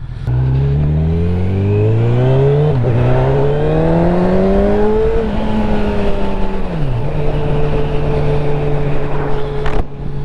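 Honda CB1000R Black Edition, a 2022 litre-class naked motorcycle, revving hard through rising gear sweeps, its engine note climbing in pitch, dropping briefly, then holding a steady loud drone close by with no talk.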